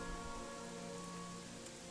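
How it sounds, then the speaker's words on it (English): Steady video game rain from Gothic 3, an even patter with a constant hiss and low tonal hum beneath it, quiet and unbroken throughout. "now it's raining"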